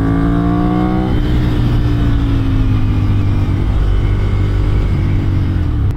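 A Ducati Monster 796 motorcycle engine revs and accelerates hard, loud and close, its pitch rising in steady climbs and then holding a sustained, throaty drone under steady wind roar.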